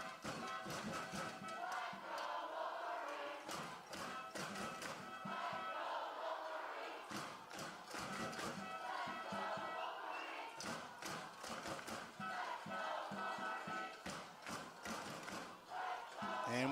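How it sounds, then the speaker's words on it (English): Saanich supporters at a junior bantam youth football provincial game, a nearby crowd shouting and cheering in repeated bursts with clapping and rattling noisemakers, fairly loud and continuous. "we can hear the crowd really getting into this one, and Saanich supporters right in front of us here, and they are vocal right now"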